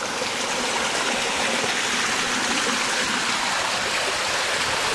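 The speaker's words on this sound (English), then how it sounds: "And then, of course, you've got the snow melt. So they do have a fantastic water supply. Oh, yeah. I mean, this is really fast flowing." A fast-flowing mountain stream of cold snowmelt rushes steadily near a hilltop ghost town, a close, even, bright roar of churning water with no pauses or voices.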